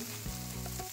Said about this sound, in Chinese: 保持住中细火，慢慢煎